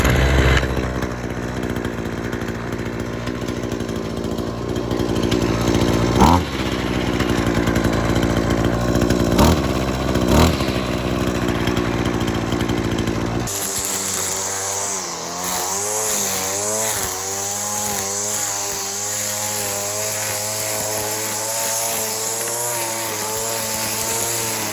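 A whipper snipper (string trimmer) engine, fitted with a swapped-in engine, runs steadily after starting on a single pull, a loud buzzing two-stroke drone that shifts pitch and revs up partway through, close by with no talk.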